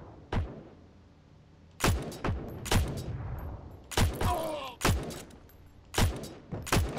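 Rifle shots in the video game Battlefield 1, several loud separate cracks with decaying tails spaced a second or so apart over a quiet background.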